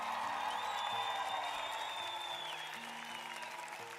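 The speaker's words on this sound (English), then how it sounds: "Round of applause" A round of clapping erupts on a live tabletop D&D homebrew review stream. It is steady and even, with sustained tonal sounds layered over it, and it tapers slightly toward the end.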